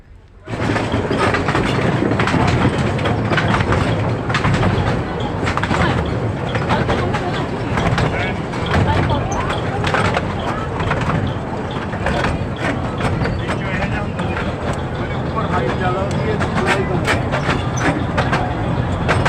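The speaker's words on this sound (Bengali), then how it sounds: "পাশে সমুদ্র, মাঝখানে যেদিকে যাওয়ার রাস্তা, সেই রাস্তা দিয়ে আমরা টয় ট্রেন চলে যাচ্ছি।" A toy train runs along the seaside road on Elephanta Island, its steady rumble and rhythmic clickety-clack of wheels on rails loud and close for the whole stretch.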